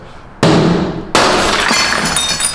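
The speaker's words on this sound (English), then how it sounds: "The whole thing breaks, right? Because it's one piece of glass." A single pane of window glass is struck and shatters, a sharp loud crash at about half a second followed by a second burst a moment later, with glass fragments tinkling and rattling up close as the pieces settle.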